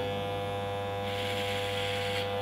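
An Andis hair clipper buzzes with a steady, close electric hum while cutting hair, its tone brightening slightly partway through as the blades work through the hair.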